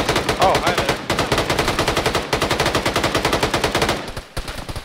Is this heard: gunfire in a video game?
yes